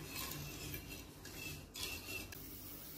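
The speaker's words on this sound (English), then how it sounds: "Now we will mix it for some time." A spoon scrapes and stirs bottle gourd soup with tomato sauce and soya sauce in a pot, a soft continuous rubbing and clinking. It is faint and steady, with no voices.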